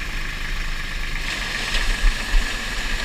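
A tractor engine with the PTO engaged runs steadily at a raised throttle, a low rumbling drone with slight surges in level toward the end, close and alone on a corn harvest day.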